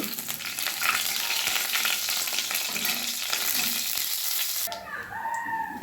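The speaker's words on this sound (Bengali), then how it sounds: "এবার কড়াইয়ে সর্ষের তেল গরম করে নিয়েছি দুটো শুকনো লঙ্কা ভেঙে দিলাম আর কালো জিরে ফোড়ন দিয়ে দিলাম এবার একটু ফোড়নটা ভেজে নেব" Dried red chillies and black cumin seeds spluttering in hot mustard oil in a wok, a loud continuous close sizzle that cuts off near the end, with a rooster crowing faintly in the background.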